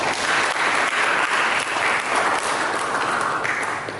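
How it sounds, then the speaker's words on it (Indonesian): A church congregation claps steadily and loudly for several seconds, the applause holding an even, full intensity before easing slightly at the end. "Berikan tepuk tangan."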